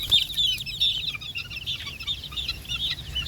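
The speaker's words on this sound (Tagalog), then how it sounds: "yan ang aming mga sisiw" Young chicks peeping and chirping continuously in a busy cluster, high thin calls overlapping with a few soft clucks, close by with no talk.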